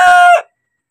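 A native chicken gives one loud, close crow that breaks off sharply after under half a second, leaving silence.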